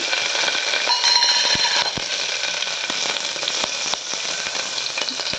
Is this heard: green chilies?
yes